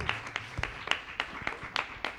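Sparse, distinct handclaps from a small audience at a fantasy literature book presentation, roughly eight separate claps spread unevenly over two seconds, fairly quiet with no voices.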